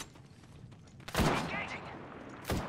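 Gunfire in the battle royale video game Apex Legends: loud, close bursts of shots at about one second and again near the end, over a low background of game ambience.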